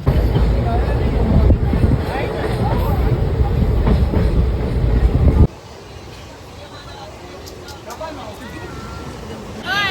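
Steady rumble and rattle of a moving train carriage approaching Rampurhat, loud at first then quieter, with people talking and faint clicks over the running noise.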